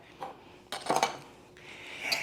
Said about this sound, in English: And I'm gonna mix all this in together. And we're gonna give it a little whisk, get it mixed up,